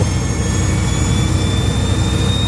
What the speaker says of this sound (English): It doesn't just have propellers, it also has jet engines.